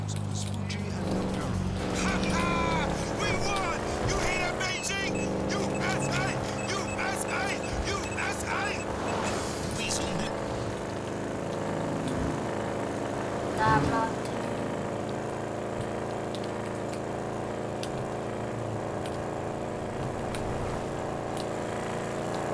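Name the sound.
car driving in video game Grand Theft Auto V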